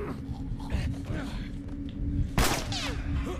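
Gunfire in The Last of Us, with a sharp broadband burst of a shot near the middle and softer shot-like impacts around it, heard under excited talking and a steady game background hum.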